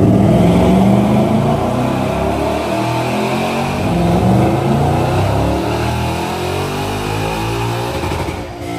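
Coyote V8 swapped into a 1968 Ford F100 revving hard on a chassis dyno: a loud, continuous, rough engine roar holds for the whole stretch with no talk.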